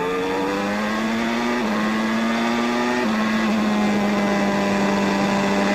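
A 1994 Williams-Renault F1 car's engine heard onboard: a loud, steady high-pitched whine holds throughout, with small pitch steps as the revs shift, close and unbroken.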